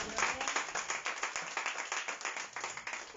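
A church congregation claps together during a sermon, a steady run of fairly close, brisk claps lasting a few seconds without talk.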